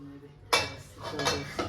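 A large metal pot clanks and scrapes as it is handled, a sharp clatter followed by a few more metallic knocks, close by with no talking.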